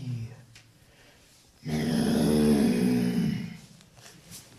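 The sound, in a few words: voice imitating a lion roaring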